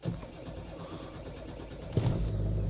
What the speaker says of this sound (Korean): 스타트 버튼 딱 누르면 시동이 안 걸려